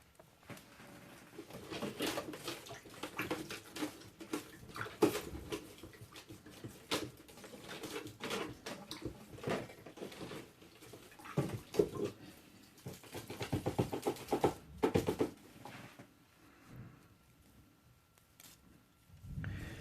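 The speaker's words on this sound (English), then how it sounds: "I'm just going to quickly wash this out in the water" Ficus benjamina roots are swished and rinsed in a container of water, giving irregular splashes, drips and trickles close by, in uneven bursts with quieter pauses and no talk.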